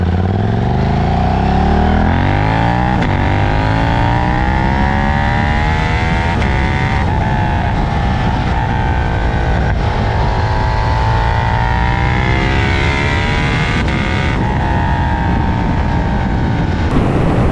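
A KTM 890 Duke motorcycle engine heard while riding on a cold winter day, loud and close with continuous droning and rising and falling revs as the bike accelerates and shifts through gears.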